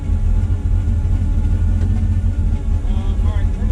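A boosted car engine runs steadily at close range, a loud, continuous low rumble with a faint whine rising near the end.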